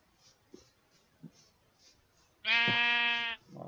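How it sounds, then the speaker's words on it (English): A single Minecraft sheep bleats loudly and clearly for almost a second, standing out from a quiet background with a few faint soft knocks. "Well, a sheep"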